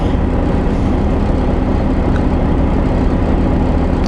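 Engine idling aboard a ferry, a steady low rumble that holds evenly throughout with no breaks and no voices.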